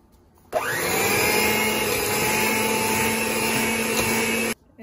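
An electric hand mixer beats batter, whirring steadily at high speed for about four seconds, starting and stopping abruptly, with a bright whine over a churning rumble.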